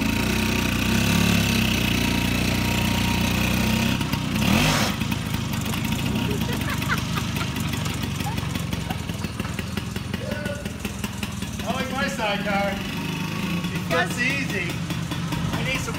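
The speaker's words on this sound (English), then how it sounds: "I enjoyed my first ride on a Vespa" A Vespa scooter engine runs steadily through a ride, with a constant mid-pitched drone beneath ongoing conversation between riders.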